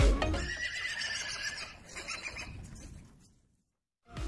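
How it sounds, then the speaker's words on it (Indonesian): A horse neighs loudly in a long, shaky whinny, likely a toy or recorded animal sound, fading out before a brief new burst at the end. "ini kuda teman-teman"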